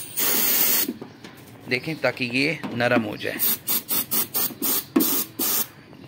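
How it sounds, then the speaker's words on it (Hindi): Aerosol spray hisses into the wiper pipes of a Suzuki Mehran, first as a long loud burst, then as a rapid series of short repeated puffs, with someone talking over the spraying. "अभी मैं दोबारा आपके सामने स्प्रे करूंगा।"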